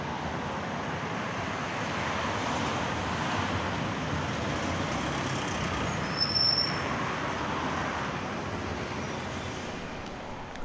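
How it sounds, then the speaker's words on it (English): A bus approaches on a street in South Hobart, Tasmania, its engine a broad steady rumble growing closer, with a short hiss of air brakes midway; no one speaks. "Here comes the bus that'll take me further up to South Hobart."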